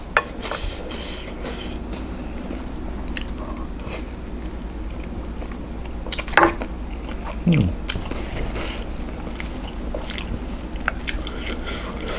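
Close-up biting and chewing of a Thai spicy papaya salad made with thin rice noodles and fermented fish sauce, eaten with crispy pork: repeated crunchy bites and wet mastication over a low steady background.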